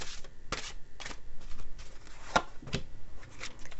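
Large spirit animal oracle cards being shuffled by hand, a run of close, soft riffling swishes and card slaps at an uneven rhythm, with no one talking.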